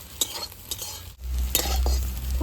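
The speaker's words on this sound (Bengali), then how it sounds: "এবারে সব কিছু একত্রে ভালো করে মিশিয়ে নেব" Puffed rice and egg being stirred in a pan for a quick snack, a few sharp spoon scrapes and clinks over a low sizzle, ending in a louder steady frying hiss.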